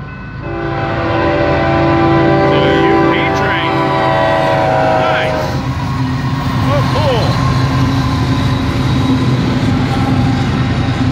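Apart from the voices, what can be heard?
Union Pacific double-stack freight train passing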